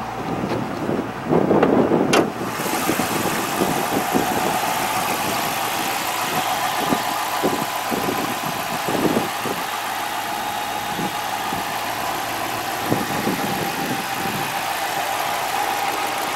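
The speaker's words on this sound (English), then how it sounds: "It has the Hemi engine." A 2012 Dodge Challenger Hemi V8 engine idles with a steady, low rumble, close by, with a brief louder rev near the start and light wind noise.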